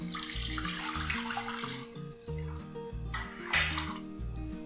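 Mixed milk pours into a pan while making Spanish fried milk, a steady close liquid pour with a continuous splashing wash over a low repeating background hum.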